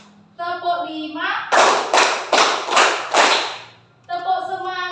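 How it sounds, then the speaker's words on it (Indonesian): A class of children claps in unison during a counted routine, with five loud, evenly timed claps bracketed by an adult voice calling out the count. "coba anak-anak kita siap untuk bertepuk dulu ya"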